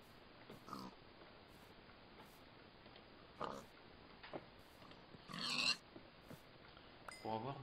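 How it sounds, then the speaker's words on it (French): Pig in a video game giving a few short, faint grunts and squeals spaced across the clip, with a louder burst near the middle, over a quiet hiss with no talk. "On va tuer un autre cochon."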